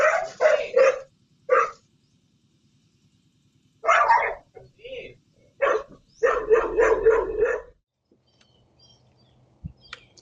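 A dog barks at a snake intruder, loud and close, in clusters of sharp barks separated by quiet gaps, with a rapid run of barks in the middle and no talk.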